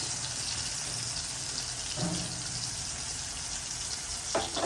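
Chopped radish frying in a pan, a steady close sizzle that runs without a break, with a couple of faint clinks partway through and no talking.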